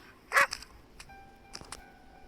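A dog barks in the horror video game Lisa Endless Nightmare: one loud, close bark, followed by a few fainter yips and short barks over a quiet background.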